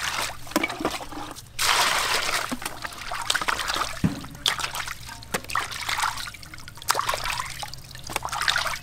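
Water trickles and splashes steadily while fish is rinsed clean with salt, with intermittent sloshing and handling noises close by and no talk.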